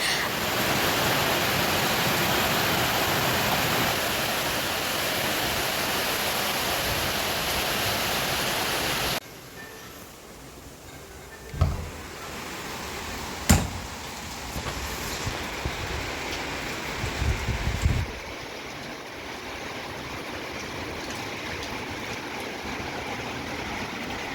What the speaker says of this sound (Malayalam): ഇവിടെ ഭയങ്കര മഴയും തണുപ്പാണ് കേട്ടോ.